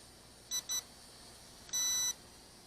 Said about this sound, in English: it's beeping, it's telling me it's low.